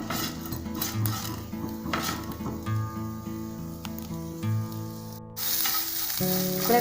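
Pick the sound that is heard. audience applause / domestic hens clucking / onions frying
onions frying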